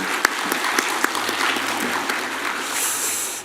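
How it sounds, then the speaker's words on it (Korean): A church congregation applauds at a Sunday service, a steady wash of many hands clapping with a few sharper claps standing out, sustained throughout at moderate loudness. "우리 하나님께 영광의 박수 한번 올려드리겠습니다."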